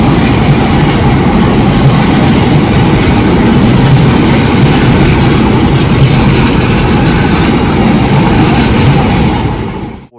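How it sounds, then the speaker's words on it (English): A train between Birmingham and Wolverhampton rumbles loudly and steadily from on board, a dense continuous roar of wheels and motion with faint rhythmic clatter that fades out at the very end. "That is just the train, unfortunately."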